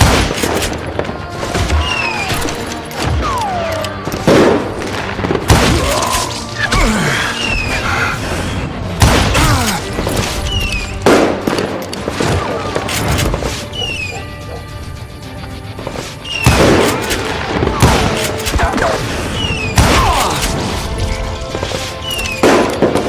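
Gunfire in the Wild West shooter Call of Juarez: Gunslinger: loud, close shots crack out in irregular bursts through the full stretch, over busy in-game noise with some faint voice fragments.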